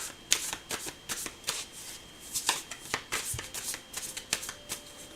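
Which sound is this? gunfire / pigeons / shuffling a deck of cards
shuffling a deck of cards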